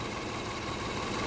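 A Toyota Kluger V6 with a misfire fault idles steadily, a low, even engine hum with a faint rhythmic rumble, heard close and alone.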